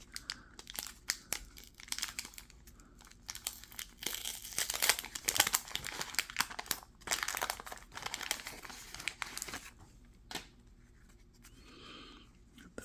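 Vintage baseball card wax packs are torn open with close, loud crinkling and tearing of the wax paper in irregular bursts, then a quieter stretch of rustling as cards are handled.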